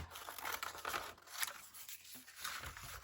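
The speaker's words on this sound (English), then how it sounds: "I'm just going to clip here and cut this part off" Scissors snipping through junk mail paper, a few close crisp cuts and crinkles, quiet and without speech.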